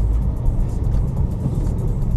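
Volkswagen Golf with a 101-horsepower engine pulling hard, a steady low engine roar and drone close by without a break, no talk over it.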